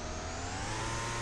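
A Car Dealer Simulator car engine hums and revs continuously at close range, steady and buzzy, its tone thin and synthetic like a toy motor.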